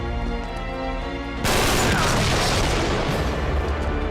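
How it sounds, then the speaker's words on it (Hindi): An RPG rocket explodes in Uncharted 3: Drake's Deception, a sudden loud boom that cuts over a droning background and leaves a dense, rumbling wash of noise that lasts to the end. "ग्रेनेड लॉन्चर नहीं, वो आरपीजी है। सीधा फट रहा है ना"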